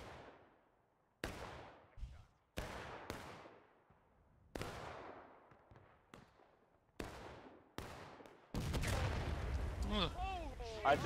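Artillery in the War of Rights video game booms out in a series of about eight sharp, loud reports, each trailing off in a long ringing decay, before giving way to a dense, rumbling battlefield din.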